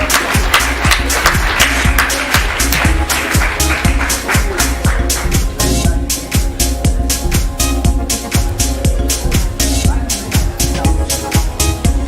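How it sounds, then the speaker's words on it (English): A summit audience applauds for football legend Hansi Müller, steady loud clapping lasting the whole stretch over a rhythmic musical beat with regular thumping hits. "huge round of applause for the legend Hansi Müller"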